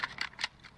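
Faint, quick mechanical clicks and clacks, three or four in under a second, as a weapon magazine is changed in the video game Modern Warfare Warzone.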